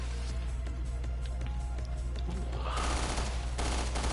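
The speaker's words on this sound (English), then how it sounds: "machine guns are totally" Sustained machine gun fire from Resident Evil: Revelations 2 Raid Mode rattles loud and dense throughout, growing heavier toward the end, with no voices over it.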